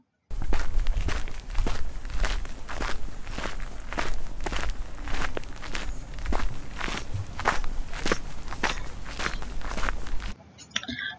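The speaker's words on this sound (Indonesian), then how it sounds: "itu adalah bunyi orang sedang berjalan" A person walks with steady, evenly spaced footsteps, each step a distinct thud repeated about a dozen times at a regular pace, close and clear, then the sound cuts off abruptly.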